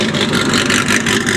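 A car leaving a car meet in Orlando revs its engine loudly and close by, a dense, rough roar that holds steady through the whole moment.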